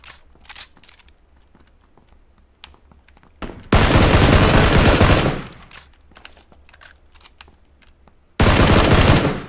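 Gunfire in the video game PUBG, two long loud bursts of rapid automatic fire separated by quieter game noise and clicks.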